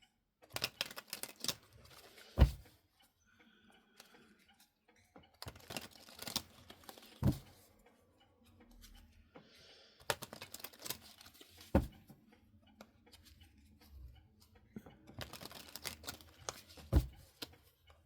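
Tarot cards are drawn and handled in a run of close, crisp taps, flicks and slides that come in short bursts separated by quieter stretches, with no voices present.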